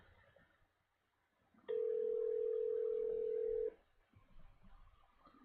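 Phone call that won't go through: a single steady tone holds for about two seconds, loud and clear, between quieter background noise.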